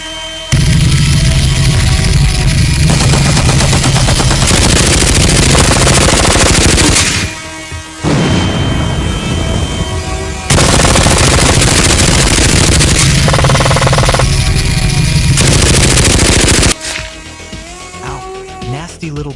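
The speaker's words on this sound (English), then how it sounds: "Time to break out the big gun." A big automatic gun blasts continuous loud bursts of video-game machine-gun fire, which break off briefly twice and then resume before ending.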